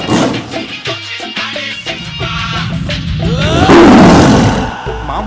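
Tiger roaring in a comedy film scene, a loud rough roar swelling in the final seconds after a stretch of talking and thuds.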